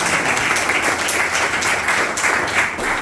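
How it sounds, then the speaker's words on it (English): A crowd at a Bucks County Republican gathering applauds steadily for a few seconds, a dense, even wash of clapping hands. "Can we give Pat Dion a round of applause for hosting us?"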